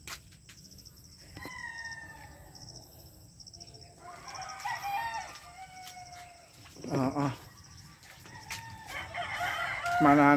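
Chickens and a rooster at a chicken farm, with roosters crowing several times in long rising calls over scattered clucking and a steady low background, fairly close and clear.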